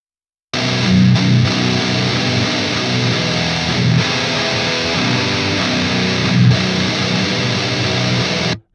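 Dense, heavily distorted electric guitars play a thick, sustained metal riff, loud and continuous with brief dips, no voices.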